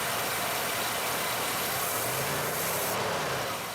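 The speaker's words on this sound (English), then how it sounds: "You can hear it start to die on the start from idle" A Ford Ranchero engine idles with a low, steady rumble close by, running rough as it starts to falter when pulling away from idle.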